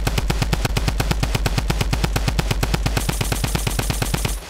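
Drum gun in Fortnite fires at buildings in a long, rapid, evenly spaced burst of loud gunshots that runs continuously for over four seconds before stopping.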